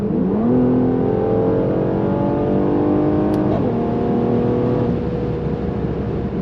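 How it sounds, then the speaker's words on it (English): A Mercedes-Benz GLC 43 AMG Coupe engine revs hard and steadily, its note climbing and shifting, with a brief sharp exhaust crackling pop partway through. "Hear those crackling pops."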